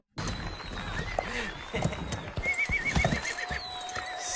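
A horse whinnies amid clip-clopping hooves and background bustle near fireworks in a film scene, the neighs rising and falling over several seconds with faint voices mixed in.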